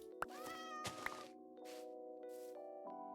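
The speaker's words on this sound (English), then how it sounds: "Oh, that cat is going to drive me nuts." A cat in the video game Minecraft meows repeatedly in clear, close, harmonic calls with short gaps between them, set over a steady background of game music or ambience. No one speaks.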